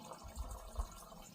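Water running steadily from an outdoor spigot left on at a heated building, a faint continuous wash with a couple of soft thumps.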